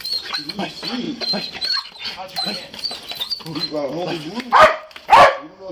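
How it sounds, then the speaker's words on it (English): A police canine unit dog barks twice loudly near the end during a building search, with shouted talk from officers throughout. "the police are probably going to use a canine to search for you"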